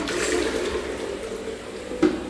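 A small toilet in an apartment bathroom flushes with a short, steady rush of running water at moderate loudness. A brief splash swells near the end, and no one talks.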